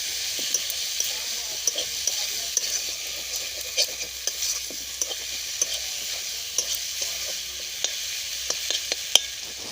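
Coriander and cumin powder being stirred in a frying pan for a chicken gizzard and liver dish, with steady broad sizzling and small scraping clicks and taps spread evenly through the clip, no talking.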